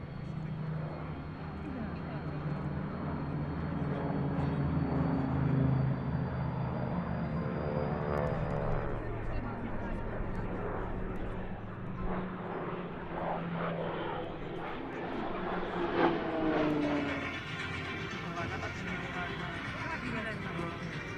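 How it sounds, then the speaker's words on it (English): Three Polish Orlik trainer aircraft flying in formation with a pair of T-6 Harvards at a warbird airshow, a sustained propeller engine drone that swells and shifts pitch as they pass, with a voice talking over it. "this so-called Orlick Memorial Flight, which sees 3 Orlicks flying with a pair of T6 Harvards"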